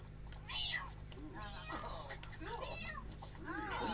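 Cats fight in The Sims 4, with yowling, meowing cries rising over a steady bed of game ambience, while a person talks over the chaos.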